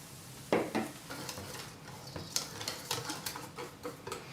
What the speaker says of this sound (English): So just put some beer in there, add a little bit more, stir it up until it gets what you're looking for